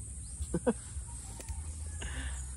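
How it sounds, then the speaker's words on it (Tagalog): Chickens cluck in short bursts around a farm house, with a couple of close calls near the start and quieter fowl sounds later over low background hum. "At may mga manok dito sa paligid eh."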